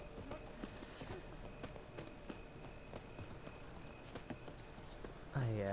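Horse hoofbeats in The Witcher 3, a quick regular clip-clop of a ridden horse running steadily under game ambience, with a voice coming in near the end.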